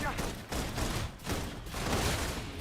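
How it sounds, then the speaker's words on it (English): Rapid bursts of suppression gunfire in the video game Love & Deepspace, several fusillade volleys in quick succession, loud and close with a voice briefly heard amid the shooting. "Requesting full suppression gunfire"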